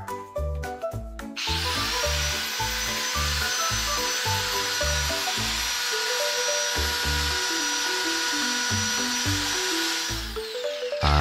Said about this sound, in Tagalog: Tinest ko muna ang grinder.